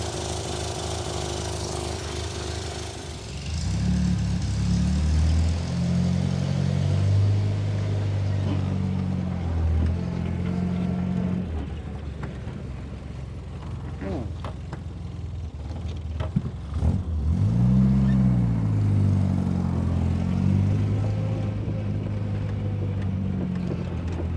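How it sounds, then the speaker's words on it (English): A 1963 Austin-Healey Sprite engine, running rough with an exhaust leak, hums steadily with harmonic drone, rising and falling as the car drives along a road, revving up again near the end. "I think it's ready to take it for a test drive, see how it goes down the road"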